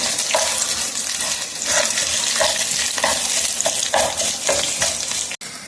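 Onions frying with ginger garlic paste, stirred in a pan: a steady loud sizzle broken by regular scraping stir strokes about every half second, no voices.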